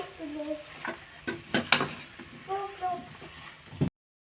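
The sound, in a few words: thick-cut potatoes frying and being stirred in a pan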